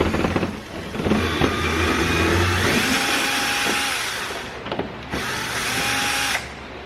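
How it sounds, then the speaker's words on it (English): A powered driver with a 10mm socket backs out a fog light screw from underneath a car, whirring loudly and close in one long run and then a shorter second burst. "we're going to remove the most difficult, only because it's underneath, screw right here. 10mm socket, that's all you should need."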